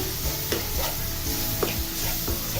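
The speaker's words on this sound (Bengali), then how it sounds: "সবগুলো উপকরণ খুব ভালোভাবে মিশিয়ে নিচ্ছি" Sweet pumpkin with spices and salt is stirred in a frying pan, a spoon scraping in repeated strokes over a continuous close sizzle, with no talking.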